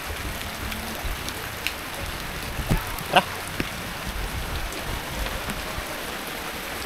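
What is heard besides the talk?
rain falling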